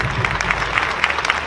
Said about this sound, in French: Je vais vous demander de vous applaudir à vous et de faire du bruit